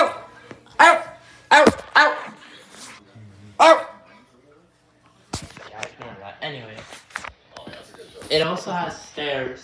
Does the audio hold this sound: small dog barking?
yes